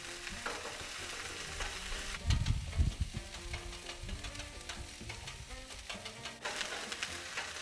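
Chorizo frying on a Blackstone griddle, a steady close sizzle with crackling spatters and a burst of spatula scraping and stirring around the third second.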